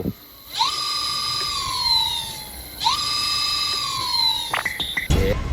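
An electric motorbike motor, tuned and fitted with a bigger battery, revs with a rising high-pitched whine that swoops up and settles twice in close succession, then ends in a few short, choppy bursts.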